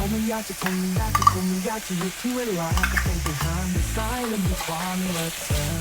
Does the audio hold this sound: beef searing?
yes